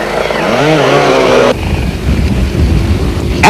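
At the 1989 Roof of Africa enduro race, a motorcycle engine roars loudly close by, its pitch climbing as the bike races past, then cutting abruptly into rough, broadband rumble.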